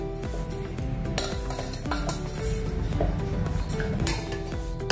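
A spoon scrapes and clinks against a pot while sugar is stirred into a warm mixture, producing continuous close scraping with intermittent metallic knocks.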